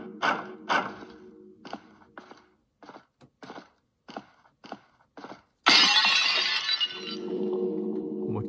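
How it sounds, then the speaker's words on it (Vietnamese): In a horror video game, a run of sharp taps and knocks comes first, then a glass jar struck with a hammer shatters in one loud, bright crash followed by a tinkling spill of shards. "Cần một chiếc búa để các bạn đập vỡ cái lọ thủy tinh kia ra."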